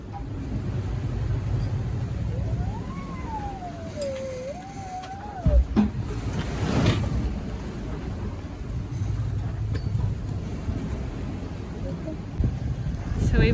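A sailboat pushing through rough seas in 25-knot winds, a continuous roar of wind and rushing water with buffeting and a few heavier thumps, a voice speaking briefly over it.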